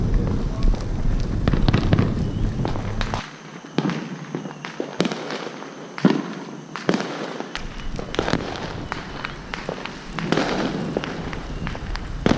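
Fourth of July fireworks exploding at a nearby show, with repeated sharp bangs and crackling bursts at irregular intervals throughout, some loud and close, with occasional faint talk.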